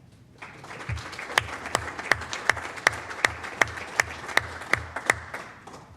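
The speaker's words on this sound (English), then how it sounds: "one more round of applause for our North Cluster principals" Audience applauding school principals at a Board of Education meeting, a steady run of rhythmic, fairly sparse hand claps rising in intensity over several seconds, with no talk over it.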